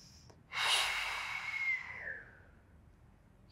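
A single long, close exhale flows out steadily through the nose and mouth during a beginner Pilates lower-body stretch, with soft breathy hiss that fades slowly into quiet.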